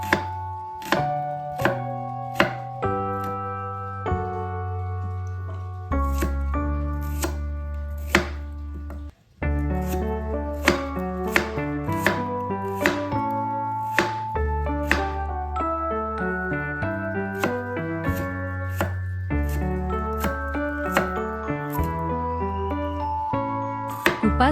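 A knife slices shallots on a cutting board in a steady run of quick, crisp chops, playing over continuous background music.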